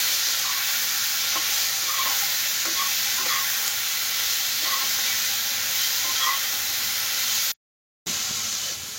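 A paste of ginger, cumin, garlic and green chili frying in oil, giving a loud, steady hiss and sizzle close by, broken by faint stirring clicks and one brief dropout near the end.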